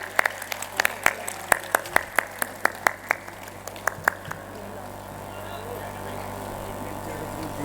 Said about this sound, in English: Please keep on clapping, everyone.